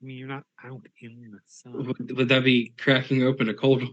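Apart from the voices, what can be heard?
None of the usual background noises is heard.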